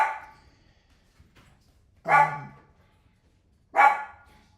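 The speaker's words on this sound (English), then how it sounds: "Sorry about my dog." A dog barks indoors during a live trading stream, giving three separate, loud barks spaced a couple of seconds apart, each short and sharp with a clear pause between.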